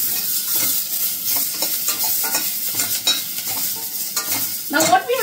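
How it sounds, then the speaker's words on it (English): Spices frying and being stirred one by one in a pan of browned onion for a Goan mushroom masala: a constant close sizzle with repeated scraping stir strokes, with no voices. "Once the onion turns brown, I'll be frying the spices one by one."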